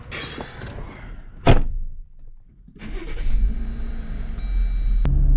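Someone climbs into a Jeep Wrangler JL with rustling movement, then a sharp door slam sounds, followed by a low rumble and a brief high tone as the cabin settles.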